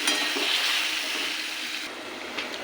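Golden-fried potatoes with ginger, tomato, melon seeds and green chilli sizzle and crackle in a pan while being stirred, a constant close frying hiss with soft scraping.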